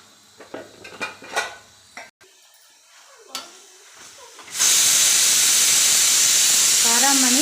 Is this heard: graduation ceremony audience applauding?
no